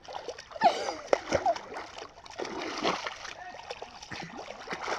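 Water splashing and sloshing as a child swims, with irregular splashes near and moderately loud, mixed with voices and a child's cries in between.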